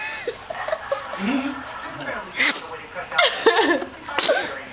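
A woman sneezes in short, sharp bursts, several in a row, amid nearby voices and light laughter in a casual indoor setting.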